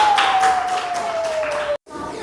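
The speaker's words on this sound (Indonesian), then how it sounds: "Beri tepuk tangan untuk kelompok 2" Classroom students clapping for a presenting group, a brief burst of applause under a steady tone that cuts off abruptly, then faint noise resumes.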